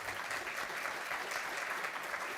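Audience applause closing a panel discussion at a live event, a soft, even wash of many hands clapping, faint and distant, continuing steadily throughout.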